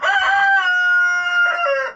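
A rooster crows once, close and loud, a long drawn-out call that rises and trails off at the end.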